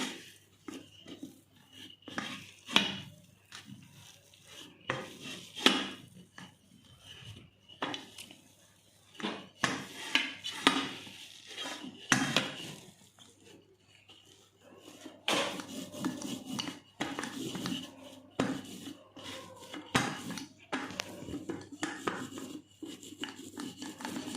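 A rolling pin presses and rolls a hot sesame mixture flat on a hard surface, producing irregular knocks, clatters and scraping rubs close by, with quieter stretches between bursts and no talking.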